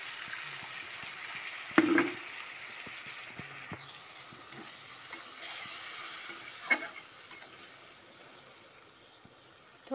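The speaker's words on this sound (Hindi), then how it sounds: "थोड़ी देर के लिए पकने के लिए छोड़ देती हूँ टमाटर को" Tomato masala simmering in a pan while paneer sabzi is being made gives a soft, continuous sizzle with a few scattered scrapes and clinks, one louder knock early on.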